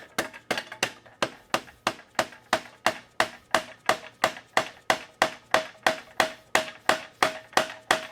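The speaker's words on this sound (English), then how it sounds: "when I hammer this through, this just stays and keeps holding everything in place" Steady, rapid hammer blows drive a pin through a Surron electric motorbike chain drive, about twenty metallic strikes in an even rhythm, close and ringing, with no talking.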